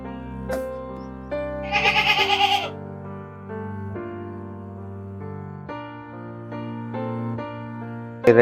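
A single wavering goat bleat rises for about a second over a steady tonal hum, with a soft thump near the start and a sharp noise at the end.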